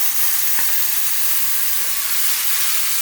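Spice paste beaten with yogurt fries steadily in oil for a dish of yogurt eggplant, giving a continuous even sizzle and hiss with a few faint stirring clicks and no talking.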